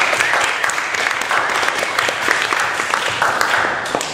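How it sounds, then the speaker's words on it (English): Applause from a panel audience welcoming a speaker at a legal-rights event for activists, a steady wash of many hands clapping that holds for about four seconds at even loudness, with some faint voices underneath. "So give a round of applause to Hasmi."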